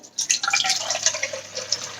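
Filtered water streams into a measuring jug, a close, bright trickling and splashing that rises and falls in short bursts, heard alone without speech.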